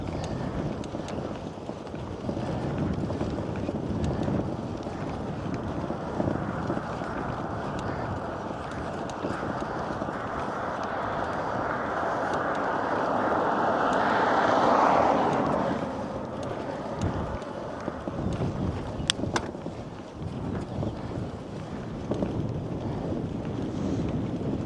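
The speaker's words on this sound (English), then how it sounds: "I think we do have a headwind though, at least in the direction we're riding right now." A steady headwind rushes and buffets against the microphone of a cyclist riding in Arctic Finland near Karigasniemi, a continuous broadband roar that swells a little around the middle, with faint rolling road noise underneath.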